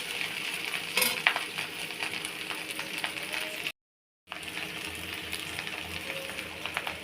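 Prawn fried rice stirred in a pan with a utensil, giving steady scraping and clinking over a constant background sizzle, with one brief total dropout partway through; no one speaks.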